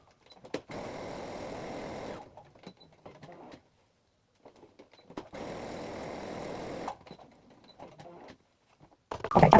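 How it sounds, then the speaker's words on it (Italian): Sewing machine running a straight stitch along the edge of fabric pieces for a fabric gnome, two steady bursts of motorised stitching at close range separated by quieter handling noises, with a louder clatter at the end. "a bordo piedino con un punto dritto."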